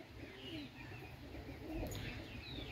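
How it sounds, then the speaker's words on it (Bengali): A Pakistani Teddy pigeon gives soft, low cooing calls, faint and close against a dim background of other bird chirps. "এই ভাই অসাধারণ কবুতর এক কথায়"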